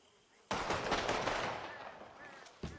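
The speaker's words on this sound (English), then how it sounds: "I will shoot off 6 bullets right now" A revolver emptied in a rapid volley of shots in a Western roleplay video game: a sudden loud burst of closely spaced bangs decaying into ringing, then one more sharp shot at the end.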